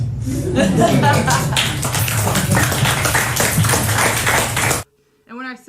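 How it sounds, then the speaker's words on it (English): An audience claps loudly and continuously at the end of a performance, mixed with chuckles, then stops abruptly before a short voice. "you heard people clapping, right?"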